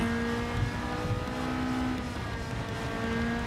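Lamborghini Aventador race car in Gran Turismo 7, a steady droning engine note held at constant revs, moderately quiet and continuous with no talking.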